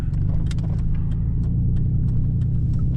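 A car rolling slowly up a street to park, a steady close engine rumble with small ticks and clunks from the bumpy road surface, no talking.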